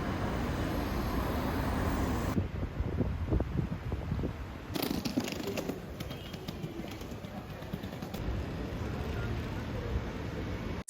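City street in Barcelona with a low steady rumble of traffic and people passing by, faint and distant, with occasional louder passing vehicles and a few bird calls over the background hum.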